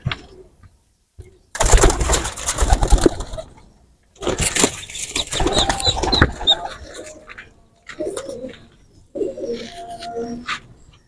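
Teddy and golden pigeon chicks coo softly, with bursts of loud broadband rustling and flapping in between and quiet pauses.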